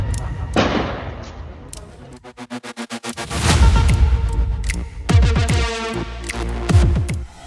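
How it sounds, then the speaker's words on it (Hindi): Gunfire from a night encounter between security forces and militants in the Akhal area of Kulgam, Jammu and Kashmir: loud, sharp shots come in rapid irregular bursts over a dense rumbling backdrop, with no talking. "रात के सन्नाटे को गोलियों की आवाज ने चीर दिया"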